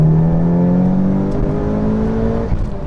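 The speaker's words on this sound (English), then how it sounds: "give it a little third gear pull." Modified, imported Mitsubishi Evo IX wagon pulling hard in third gear, heard from inside the car: a loud, rising engine drone climbing steadily in pitch for a few seconds before easing off at the end.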